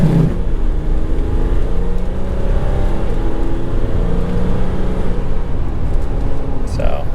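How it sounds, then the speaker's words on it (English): A RAM Ecodiesel 1500 pickup truck accelerates at full throttle at about 20 mph, its turbo diesel engine giving a loud, steady drone that rises gradually in pitch throughout, heard from inside the cab. "So we're doing about 20 miles an hour as full throttle."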